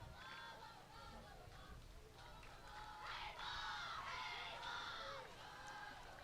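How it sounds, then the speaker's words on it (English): A softball dugout of Columbus players cheers and chants for their batter, a distant mass of young voices shouting in rising bursts over steady background noise. "They are cheering on Schaefer, trying to get some momentum back"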